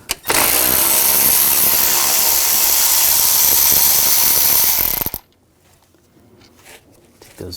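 A 13mm socket ratchet loosens bracket bolts during power steering reservoir hose work on a 2000-2006 BMW X5. Loud, rapid, continuous clicking runs for about five seconds, then stops abruptly, leaving faint handling noises.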